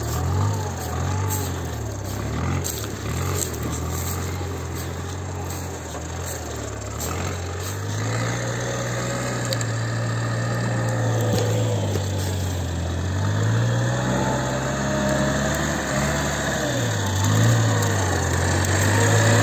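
A tracked forestry machine's engine drones steadily at close range, a low continuous rumble with slight rises as it drives forward, while a man calls out instructions over it.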